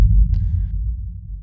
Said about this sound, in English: It's a dry reverse kick that runs into like a